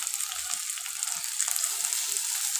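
Ginger garlic paste fries in a hot pan with a steady, close sizzle and faint crackles, with no voices over it.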